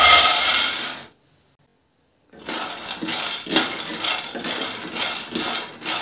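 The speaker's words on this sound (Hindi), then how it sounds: "सबसे पहले हम एक कढ़ाई लिए हैं, इसे गर्म कर लिए हैं और इसमें हम बादाम को भून लेंगे" Almonds roasting in a hot kadhai over a low to medium flame for chikki. Loud, rhythmic metallic scraping and rattling of nuts against the pan comes in bursts, with a brief silent gap near the start.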